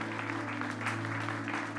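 Congregation applause for God rings out during a Spanish-language service at Ekklesia New York, clapping layered over a steady low musical hum from the church sound system, short and moderately loud.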